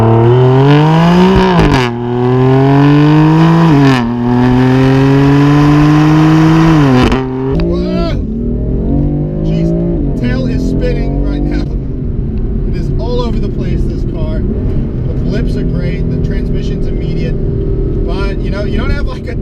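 JB4-tuned BMW M4 engine accelerating hard, loud rising revs climbing through gear changes with a throaty exhaust roar, then settling into a steady drone with road noise as the car keeps pulling.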